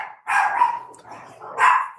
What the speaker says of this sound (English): I got Doodle barking at me.